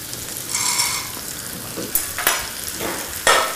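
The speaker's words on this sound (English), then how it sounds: "saute the pine nuts in this nice yummy butter here for a few minutes till you start to see them brown up" Pine nuts sautéing in melted butter in a hot pan give a soft continuous sizzle, with a few sharp clicks and scrapes of a utensil moving them, close up.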